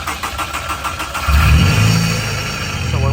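A Honda S2000 engine, just serviced for a stuck idle valve, catches and settles into a steady mid-pitched idle hum after a second of quieter background, running continuously close by.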